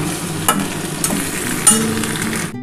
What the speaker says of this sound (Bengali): এবার ভালো করে একটু নাড়াচাড়া করে নিই। খুব বেশি ভাজবো না কিন্তু